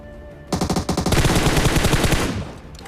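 Rapid automatic gunfire in PUBG Mobile, sprayed from inside a smoke cloud in Georgopol, loud and close with a fast burst of sharp shots running about two seconds before trailing off.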